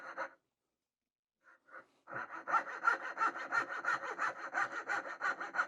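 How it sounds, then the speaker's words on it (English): Katz-Moses KM-19 coping saw cutting wood for dovetail joints: a few short strokes after a brief pause, then a steady, rapid back-and-forth rasp of close, even sawing strokes. "What I am trying to do at the moment is saw to my lines, not chisel back after sawing"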